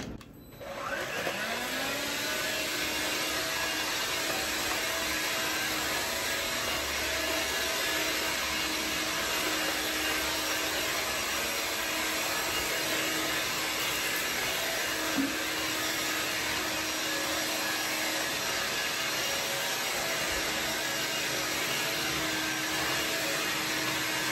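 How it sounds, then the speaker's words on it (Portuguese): Cordless vacuum cleaner running indoors in a house, starting up and then holding a steady loud whine with a constant motor hum for over twenty seconds, with no voices. "Vamos ver se eu vou conseguir passar aspirador na casa toda."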